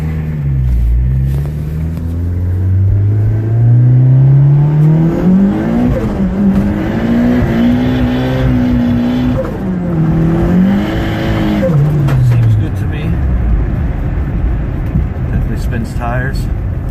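A Honda with a chipped OBD1 ECU revs hard as it accelerates, its engine note climbing, dipping and climbing again, loud and close, with brief tire noise and some talk now and then.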